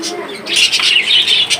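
A pair of sky-blue budgerigars sitting on eggs, chirping in quick bright bursts close by with other bird calls around.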